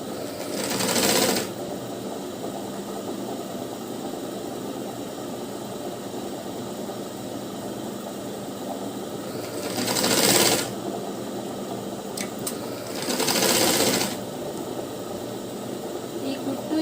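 A sewing machine stitches a blouse lining in three short runs of fast whirring, one at the start and two later, separated by long stretches of quiet room hum.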